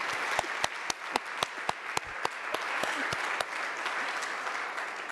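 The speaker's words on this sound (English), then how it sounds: "And also a big applause to our moderator" Applause at a global forum conference on adaptive social protection, a soft, even patter of many hands with a few louder, sharper claps from someone close by, steady throughout.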